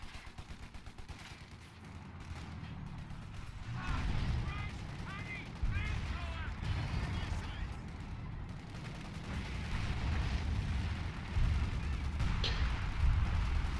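Artillery shelling and small-arms fire sound across a World War II battle for Caen in a strategy game, a steady din of distant booms, crackling shots and rumbling blasts, with a voice talking over it.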